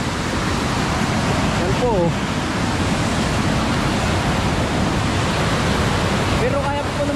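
Floodwater rushes across a road during heavy rain, a loud, constant broadband roar with brief voices heard over it.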